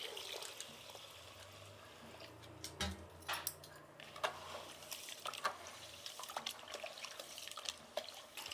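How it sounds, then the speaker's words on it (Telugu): Ragi and rice grains are washed in water in a home kitchen, with faint sloshing, trickling and scattered small knocks and clicks against the vessel, fairly quiet and without talking. "ఇప్పుడు ఈ రాగులు బియ్యాన్ని కడుక్కునేస్తాము."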